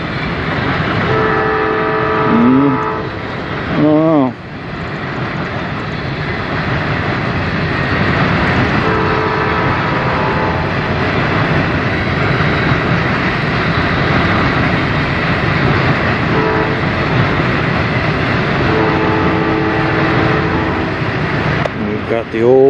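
Freight train on the Norfolk Southern and CSX lines at Fostoria, Ohio, rumbling past steadily and loudly, with horn-like tonal blasts early on and a caboose at the end of the consist; a voice talks over it.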